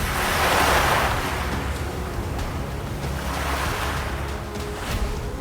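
Surging Arabian Sea waves roar and wash continuously near a rocky island shore, a loud surge swelling at the start and then rolling on with wind buffeting the microphone, no voices.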